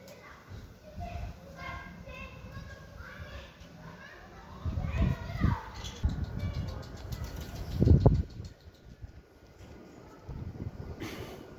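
Pigeons, young smoky-coloured birds, landing with bursts of flapping wings, several flurries of wingbeats close by, loudest in the middle and near the end, mixed with children's voices and someone talking in the background.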